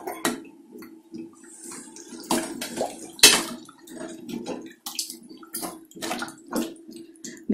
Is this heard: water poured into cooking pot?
yes